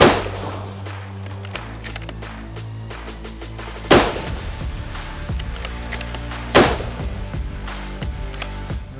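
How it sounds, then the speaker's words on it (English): Rifle shots ring out against a 4-inch thick steel target, two sharp loud cracks with a metallic ring spaced a few seconds apart, with softer clanks and a low hum in between. "We're gonna shoot on I think it's a 4-inch piece of steel, shoot three"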